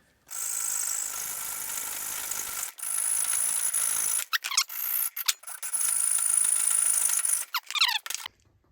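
A ratchet wrench tightens a 10 mm nut on a Riversmith River Quiver rack mounted on a Ram 2500 truck, giving several bursts of rapid clicking separated by short pauses, close and clear with no talking.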